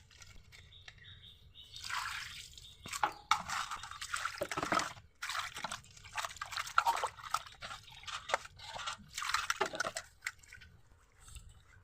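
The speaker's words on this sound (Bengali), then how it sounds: "এখন মাছটাকে আমি আর একটু করে ভালো করে ধুয়ে নেব" Pieces of pangas fish are gently washed by hand in water, making intermittent close splashing, dripping and squishing bursts separated by short quiet gaps, with no talk.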